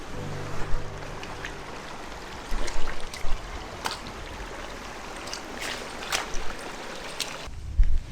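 Water flowing down a footpath like a small river near waterfalls at Fairy Glen in Scotland, a continuous soft trickling wash with a few brief louder splashes and thumps.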